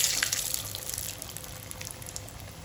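Hand-patted falafel patties drop into hot oil, four or five at a time, and set off a bright hissing burst that settles into a softer, steady bubbling sizzle, with no talking.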